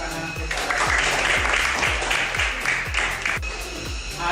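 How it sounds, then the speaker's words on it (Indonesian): Applause from a classroom of students, a dense, steady patter of many hands clapping together at moderate loudness throughout, with no speech over it. "Kita kasih tepuk tangan kepada."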